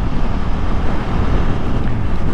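Steady, loud wind roar buffets the microphone while riding a Honda Hornet 750 naked motorcycle at speed, a dense continuous rush with no talk over it.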